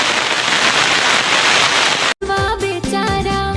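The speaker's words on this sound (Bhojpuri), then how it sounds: "बारिश हो रहा है, देखिए ध्यान से।" Heavy rain pours down in a village, a dense loud hiss for about two seconds before it cuts abruptly to music.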